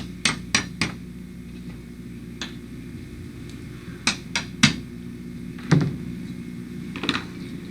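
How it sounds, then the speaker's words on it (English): An awl being tapped to center punch aluminum angle, sharp metallic knocks heard close up in small clusters of two or three strikes with pauses between, no talking. "use an awl to center punch"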